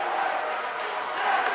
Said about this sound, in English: And a crowd promptly greets the Westminster Titan cheerleaders with a round of boos